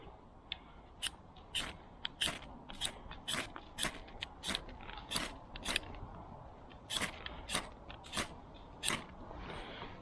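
Bushcraft knife struck against a fire steel outdoors over small paper tinder, producing a series of sharp, bright scraping strikes in an irregular rhythm, close and clear with no talking.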